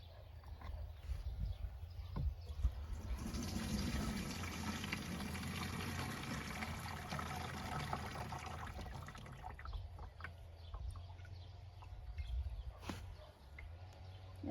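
Cold water pours steadily for several seconds in a continuous splashing rush, then slows to a lighter trickle with occasional drips.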